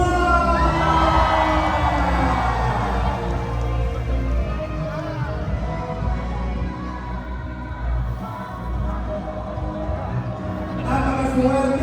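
A large crowd at a public event for fish farmers bursts into loud cheering and shouting, with a siren-like wail rising over the sustained noise.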